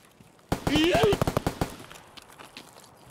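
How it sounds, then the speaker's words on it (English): Escape From Tarkov gunfire: one loud, fast burst of automatic shots that turns into scattered single cracks and fades to faint pops, with a voice briefly heard over the first burst. "Why are we going right towards the gunfire?"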